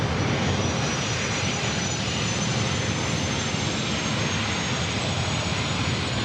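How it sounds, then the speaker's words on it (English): A British Airways Boeing 777-300ER departs at night from San Diego airport, its jet engines a steady, loud broadband roar that holds evenly throughout with no talk over it. "We're going to see the British Airways 777 departing here tonight."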